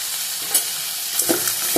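Chana dal, tamarind and fennel fry in a hot pan for Salem-style kara chutney, a steady sizzling hiss with a few soft stirring scrapes and clicks near the end.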